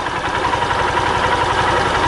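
A fuel-injected Honda Titan 150 motorcycle engine idles at around 1400–1500 RPM, a loud, close, steady low putter with an even pulsing rhythm and no voices.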